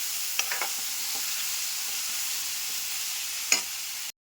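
Onions frying in a pan with turmeric, a steady soft sizzle throughout with a few scraping stirs and one sharper clink near the end, close and fairly quiet, no voices.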